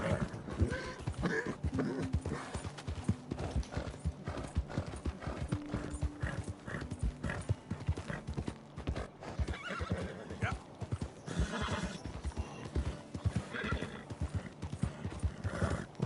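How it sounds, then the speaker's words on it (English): Hoofbeats of a galloping horse in Red Dead Redemption 2 pound out a rapid, steady clip-clop close by, with the horse neighing and whinnying over a dense game soundscape. "Well, I might be pushing the horse a little too hard."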